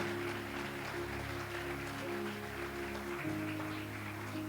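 A church congregation claps together during an evangelical service, a steady sustained applause under a low held organ or keyboard chord, with no speech over it.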